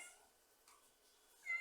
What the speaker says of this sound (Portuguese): O barulho que vocês estão ouvindo aí é da minha gata, da Violeta